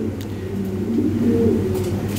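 A large Lahori pigeon, part of a breeding pair, coos in a loud, close, continuous throaty rumble with rising and falling pulses, heard alone.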